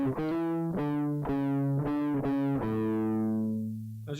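Heavily distorted electric guitar from a solo, with a run of five sharp, evenly spaced picked notes followed by a long sustained note that rings out and slowly decays, played alone without talk.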